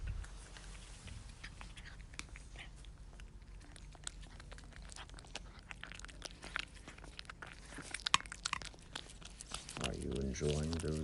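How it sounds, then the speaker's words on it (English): Close, quiet chewing and crunching as a cat eats, with soft irregular bites and clicks, and a voice speaking near the end. "And now the sound of Gonzo the cat eating."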